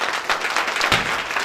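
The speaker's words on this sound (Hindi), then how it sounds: "अपने लिए जोरदार ताली।" A large audience at a stage show in a hall claps loudly together, a dense burst of applause that swells and holds without a break.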